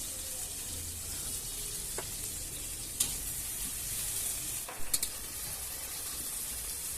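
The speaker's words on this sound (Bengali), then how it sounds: "চিংড়ি মাছটা আমার ভাজা হয়ে গেছে, আমি তুলে নিচ্ছি।" Prawns fry in hot oil with a steady, bright sizzle throughout, broken by a few sharp crackles and spits near the end, close and fairly loud with no talking.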